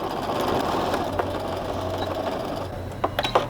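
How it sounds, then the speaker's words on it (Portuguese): A sewing machine stitches patchwork along a diagonal seam, a close, steady mechanical whir with a fast needle rhythm and a few louder clicks near the end. "Costurar nos dois lados da diagonal."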